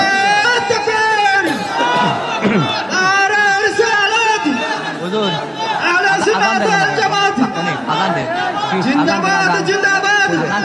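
A large crowd chants religious slogans in loud unison, with rhythmic shouted call-and-response phrases and dense voices throughout.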